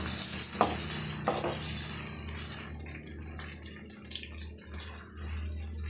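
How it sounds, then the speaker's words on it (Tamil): Onions sauté in a pan for tomato rava khichdi, a soft sizzle with spatula stirring scrapes, louder at first then settling into a quieter, uneven frying sound. "இப்போ வெங்காயம் ஓரளவுக்கு வதங்கி வரட்டும்"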